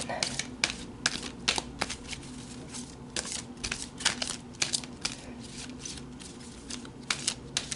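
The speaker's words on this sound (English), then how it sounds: "I'll pull one of these cards and then we'll be done" A deck of oracle cards is shuffled and cards are pulled, giving a close series of quick, crisp riffling snaps in an uneven rhythm over faint room noise.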